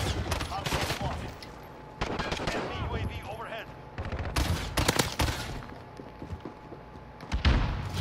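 Bursts of FAMAS fire in Call of Duty: Modern Warfare crack out in short, uneven volleys with quieter gaps, loud and close amid game effects.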